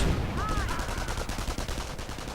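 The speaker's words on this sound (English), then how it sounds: "Slowly getting gunned down by those nasty Volksgrenadiers." Gunfire from a WWII strategy video game, a steady crackle of rapid shots and bursts at moderate loudness, with a brief whistling tone early on and no talk over it.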